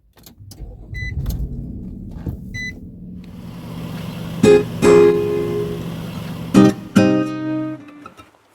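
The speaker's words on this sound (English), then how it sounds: "Starting up the engine." A car engine on hemp seed motor oil cranks and starts, then settles into a steady idle with a few sharp clunks and beeps near the end. It is close and fairly loud.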